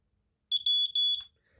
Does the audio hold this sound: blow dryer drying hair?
no